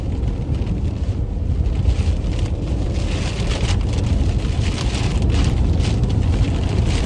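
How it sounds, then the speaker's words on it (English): Heavy rain during a tornado-warned storm chase in New Mexico or Texas, a dense, steady roar of downpour and wind buffeting the microphone, loud and continuous with no voices. "Big rain left to right,"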